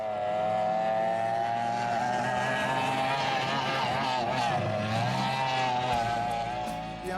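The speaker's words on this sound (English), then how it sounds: "The engines, the water," Racing speedboats roar across the water at the Sproat Lake Regatta, a loud, sustained whine of high-revving engines that swells and shifts as the boats pass, with no talk over it.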